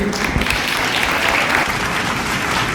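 Loud, dense applause from a student audience at a motivational talk, continuous clapping with no voices over it.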